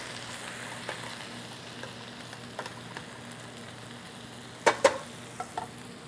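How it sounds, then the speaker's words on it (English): Wine with anchovies simmers and sizzles steadily in a pan for an orecchiette with broccoli rabe dish, a soft continuous bubbling hiss broken by a few sharp clinks of a utensil against the pan. "Let this boil."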